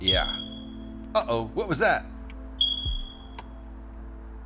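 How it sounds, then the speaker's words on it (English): A smoke alarm with a low battery gives one short, high electronic chirp indoors, heard once after a few spoken words, over a steady low background hum. "That was a fire alarm chirp."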